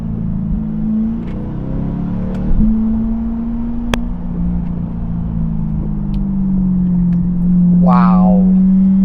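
A Chevrolet C8 Corvette's engine drones steadily while being driven, its low pitch rising and falling gently with shifts in throttle from inside the cabin. Voices speak over the rumble and brief laughter breaks in near the end.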